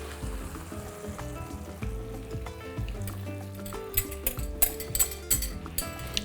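Beaten eggs sizzling and frying in a pan over other cooking ingredients for an Armenian omelette, soft steady crackle with sharper spattering bursts toward the end.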